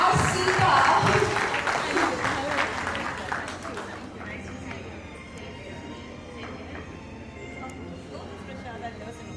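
An audience at an entrepreneurship business conclave applauds a guest, the clapping loudest at the start and fading to a thinner scattered patter with some background murmur.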